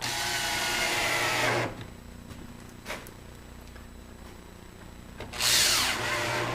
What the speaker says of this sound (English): And then you just simply put these two screws here.